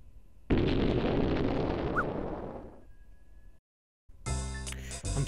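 Dynamite goes off in the video game Speedy Eggbert 2: a single loud blast with a rumbling tail that fades over about three seconds, then brief silence before other game sounds return.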